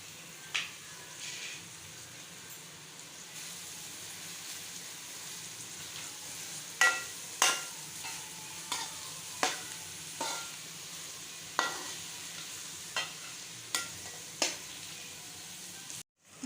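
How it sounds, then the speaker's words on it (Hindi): Chopped onions sautéing softly in a pan for dum qeema, a faint steady sizzle with a series of stirring scrapes and taps in the latter half, no talking. "ये देखें, प्याज बिल्कुल हमारी नरम सी हो गई है, सौते हो गई है।"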